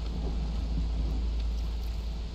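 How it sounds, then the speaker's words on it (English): Steady storm ambience from the settlement-building game Against the Storm: a dense, continuous wash of rain with low rumbling thunder underneath, constant and fairly loud across the short stretch with no break. "It's a short storm."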